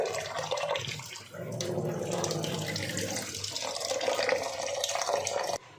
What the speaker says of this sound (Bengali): চালটা এখন ভালো করে ধুয়ে নিচ্ছি